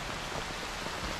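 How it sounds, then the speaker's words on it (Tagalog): Steady rain falls outdoors among mango trees, a dense even hiss of drops close by with no break or voices over the short stretch. "nabutan tayo ng ulan"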